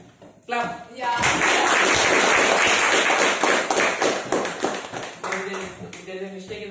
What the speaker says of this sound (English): If you like it and if you know it,